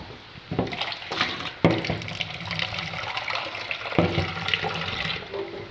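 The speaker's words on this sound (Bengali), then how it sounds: "একটু পানি দিয়ে দিই" Water splashes and runs steadily for several seconds as it is poured into a cooking pan of fish curry, a close, hissy pour with a few louder surges and clatter.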